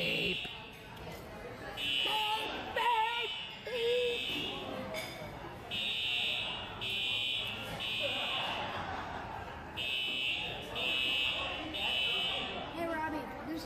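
A fire alarm sounds in repeated loud, harsh buzzing beeps in regular bursts, while people talk and chuckle over it.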